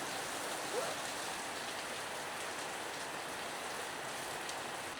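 Steady rain falls outdoors on a muddy road trip from Kathmandu to Pokhara, Nepal, a constant soft hiss of drops close around without pauses or talking.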